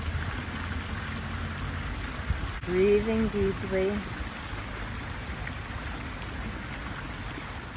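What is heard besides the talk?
stream water flowing in Golden Gate Park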